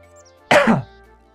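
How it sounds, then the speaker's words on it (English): A single short, sharp cough bursts out close to the microphone, then quiet background hum returns. "Oh god, I got a cough."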